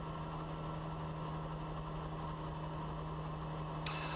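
A small aircraft piston engine, running on one magneto during a magneto check, hums steadily at idle, a constant droning tone with no voices and a slight shift in pitch near the end.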